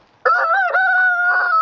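A hen scratching in the dirt on a mild spring day gives one loud, drawn-out call that starts abruptly, sounds close and lasts just over a second.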